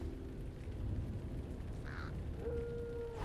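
A single harsh crow caw rings out once, midway, over a steady low ambient rumble in the Lord of the Rings Online video game, set in the Bree-Land area.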